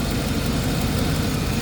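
A GM Vortec 6-liter V8 idles smoothly and steadily at close range, a constant low rumble with no revving and no voices.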